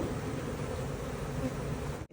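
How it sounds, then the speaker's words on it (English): Honey bees coming into a full hive made a dense, continuous buzzing drone, close and steady throughout, ending in a brief dropout. "And all the bees come in."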